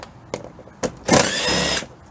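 A power tool whirs in short bursts while 10mm bolts are removed from the belly pan under a Mazda 3: two quick blips, then a longer, louder run of close spinning, with no talk.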